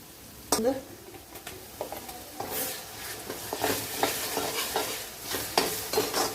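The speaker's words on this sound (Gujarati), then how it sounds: "લસણ થોડી વાર ચડવા દઈશું" Garlic cooks in a pan for a green turmeric curry, with scraping stirs and a steady low sizzle throughout, plus a few sharper utensil knocks near the start.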